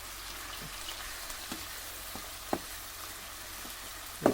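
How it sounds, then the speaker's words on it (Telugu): Ground onions go into a hot pan with green chillies for a village-style fish curry, giving a soft, low sizzle with a few scattered clicks of stirring, the last one louder. "తర్వాత ఉల్లిపాయలు, మనం గ్రైండ్ చేసుకున్న ఉల్లిపాయలు వేసుకోవాలి."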